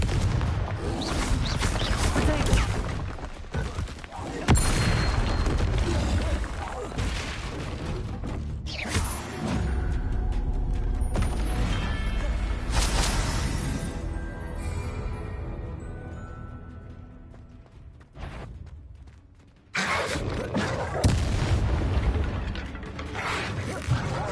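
Confringo blasting curse explosions in Hogwarts Legacy, a dense run of booms and crackling blasts with mechanical clatter, fading toward a quieter stretch before a sudden loud burst returns.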